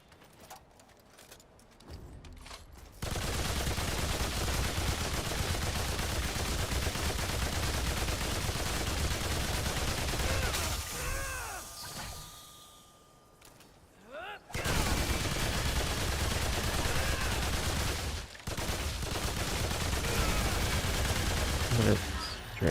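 Sustained automatic gunfire in the video game Remnant 2 on Nightmare difficulty comes as dense, loud bursts that run for long stretches, pausing briefly midway and again near the end. Players talk faintly beneath the shooting.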